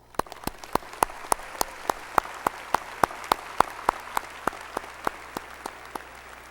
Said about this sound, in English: Join me right now in giving them a round of applause.